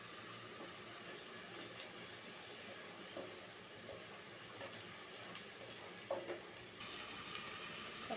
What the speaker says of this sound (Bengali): এটাও সুন্দর করে ভেজে নেব, যতক্ষণ না তেল ছেড়ে দেবে ততক্ষণ সুন্দর করে ভাজতে থাকবে।